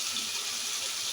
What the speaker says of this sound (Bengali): তেঁতুলটা একটু জল দিয়ে এই চটকে নিচ্ছি